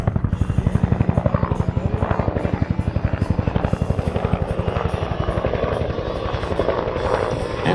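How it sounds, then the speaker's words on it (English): A Cobra attack helicopter flies at the Atlanta air show, its rotor pounding out a fast, steady chop that is loud and close throughout, with a public-address voice speaking over it. "our Cobra 17 wingman was flown today by U.S. Army Lieutenant John Watts"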